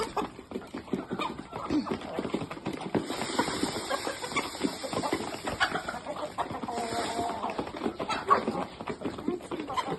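A flock of chickens clucks and scratches busily while feed is poured out for them, a dense, moderately close chatter of hens with people talking over it now and then.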